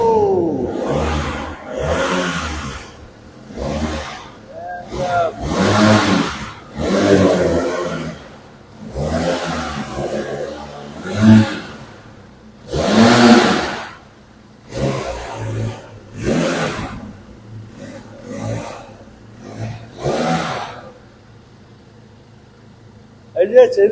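A Benelli motorcycle engine starts and revs repeatedly, with bursts of loud throttle roar separated by short idle dips, heard close and mixed with people talking.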